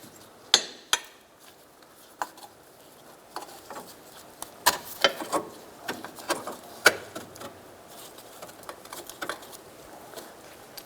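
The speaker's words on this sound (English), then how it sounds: "Install your new rear sway bar link. Get it in place." Metal clicks and knocks of a new rear sway bar link being fitted on a 2012-2016 Subaru Impreza, scattered irregular taps and clatters at close range with no talk.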